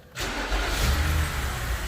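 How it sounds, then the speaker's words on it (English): A BMW E60 engine cranks and catches abruptly, then settles into a steady, loud idle with a low rumble. No one speaks. "how you check the oil is you check it with the car running"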